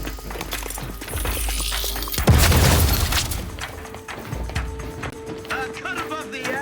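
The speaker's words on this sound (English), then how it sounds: "Explosion imminent!" A loud explosion in The Outer Worlds 2 bursts in with a deep booming blast and a long rumbling, debris-filled decay, after busy game effects and with faint game dialogue around it.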